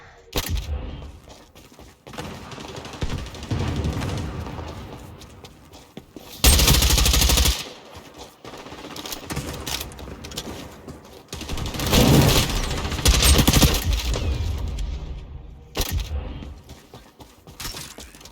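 Gunfire in a video game shooter: repeated bursts of automatic rifle fire and single loud shots, some close and heavy, others farther off, coming in uneven waves over about eighteen seconds.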